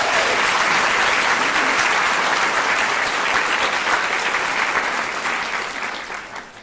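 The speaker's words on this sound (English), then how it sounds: "you're going to welcome Dr." A festival audience applauds to welcome a keynote speaker, with dense, sustained clapping filling the hall at close range before thinning out and fading at the end.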